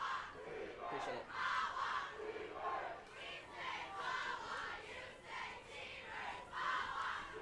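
Cheerleaders leading a crowd at a high school football game between the Mahwah Thunderbirds and the Dumont Huskies, with rhythmic group chants rising and falling in repeated bursts, heard from a distance across the stands.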